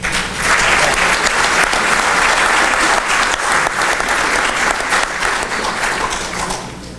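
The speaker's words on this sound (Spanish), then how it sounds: "lo recibimos con un fuerte aplauso" Full-room audience applause at an evening mining, education and culture talk, loud and dense from the start, holding steady for several seconds before tapering off slightly at the end, with no voices over it.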